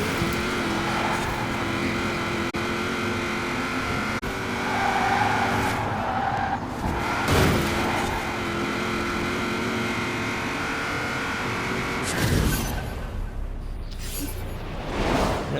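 Game audio of a Chevrolet Camaro IROC-Z racing in Forza Horizon 4, a steady engine drone with skidding tire noise throughout, swelling briefly near the end.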